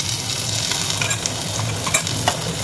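Ginger and green chili paste fries in hot oil tempered with bay leaf, dried chili and cumin, giving a loud, continuous sizzle with crackles and light stirring scrapes.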